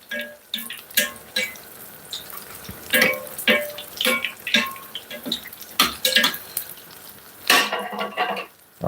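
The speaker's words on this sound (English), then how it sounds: "We're gonna spoon the oil over the top." Hot oil ladled with a spoon over fish frying in a pot that is a little too short for it, giving irregular close splashes, clinks and sizzling bursts with no talk.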